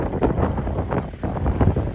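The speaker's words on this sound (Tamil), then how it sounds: "காற்று பயங்கரமாக இருக்குது நான் பேசுகிறது கொஞ்சம் கிளியராகவே கேட்காது உங்களுக்கு" Strong coastal wind buffeting the microphone near the Pamban vertical lift bridge, heavy low rumbling gusts that swell and dip, loud and close, with no voice heard.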